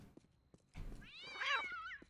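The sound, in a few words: cat meowing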